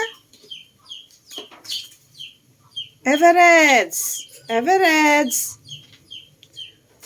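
Chickens at a cat house give two loud, drawn-out calls between about three and five and a half seconds, with softer clucks and chirps scattered around them and brief speech nearby.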